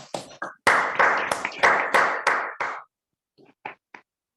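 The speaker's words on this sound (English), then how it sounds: "Let us give a loud round of applause for both Toastmaster Kunal and Toastmaster Rajanna." Applause at a Bangalore Toastmasters club meeting for two Toastmasters, a short burst of close, loud clapping lasting under three seconds, then stopping abruptly, followed by a few scattered late claps.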